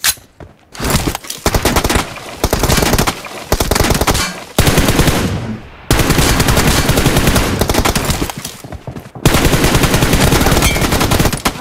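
Gunfire in a mobile shooter video game during a 2v2 team deathmatch comes as loud, rapid automatic bursts, repeating in clusters with short silent gaps between volleys.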